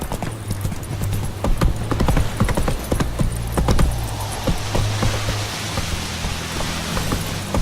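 Roach the horse trotting in The Witcher 3, hooves clip-clopping in a steady rhythm over a low wash of ambient noise, close and moderately loud, slowing and fading toward the end.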